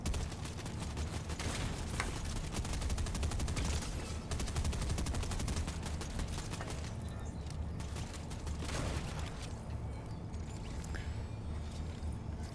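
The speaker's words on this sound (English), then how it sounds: "I'm gonna go in with a shotgun" Shotgun and gun blasts in a video game, loud and sustained, with rapid overlapping shots and a dense rumble of fire that thins out and grows sparser toward the end.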